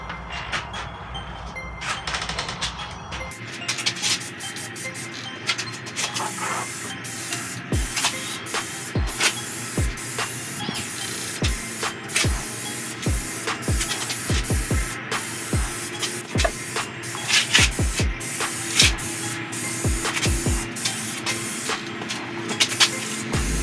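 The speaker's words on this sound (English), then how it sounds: "Watch my spray pattern." A spray gun hisses continuously as clear coat is applied to a ZL1 front splitter, with sharp clicks and pops scattered at irregular intervals through the steady spray.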